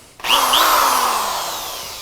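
DEWALT drill driving a tap spins up abruptly with a whirring motor whine that rises briefly, then holds a steady, close, loud hum as it slowly winds down in pitch.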